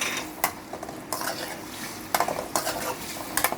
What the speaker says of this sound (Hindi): इसमें हम आलू डाल के आलू फ्राई कर लेंगे अच्छे से।